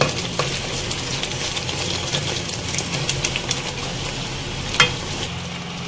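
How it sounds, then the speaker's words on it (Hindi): Pieces of cooked mutton for Peshawari namkeen gosht are stirred and fried with yogurt in a pot, giving a steady soft sizzle with scraping spoon strokes and one sharper clink near the end. "और अब हम इसे दही के साथ भी भूनेंगे।"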